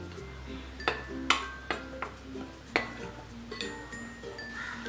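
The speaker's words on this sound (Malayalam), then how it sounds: "ഇതിലേക്ക് 1 ടേബിൾ സ്പൂൺ കോൺഫ്ലവറും ആവശ്യത്തിനുള്ള ഉപ്പും 1 ടേബിൾ സ്പൂൺ ഓയിലും ചേർത്ത് ഇതൊന്ന് മിക്സ് ചെയ്ത് കൊടുക്കാം" Flour, cornflour, salt and oil being stirred in a bowl, heard as a series of sharp clinks and taps of a utensil against the bowl, irregularly spaced and fairly close.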